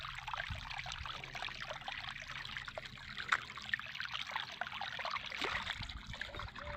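Rainwater trickles and flows into a farm stream, a soft continuous burble with small splashes, fairly faint and steady, with occasional distant background noise.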